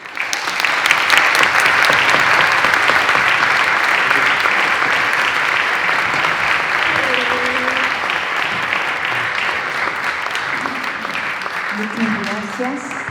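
Warm, sustained applause from an audience for the guests at a public dialogue between writer Alejandro Zambra and Nobel physicist Didier Queloz, a full crowd clapping steadily, with voices rising faintly underneath as it tapers.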